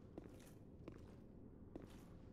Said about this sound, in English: I hear other footsteps.